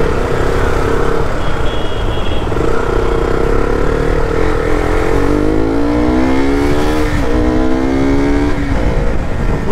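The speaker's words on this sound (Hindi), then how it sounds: "आरपीएम साउंड जिसका इतना प्यारा लगता है ना मेरे को भाई लोग" A car engine revs and pulls through a busy market street, its drone rising and falling in pitch with a loud, steady roar close by and no talking.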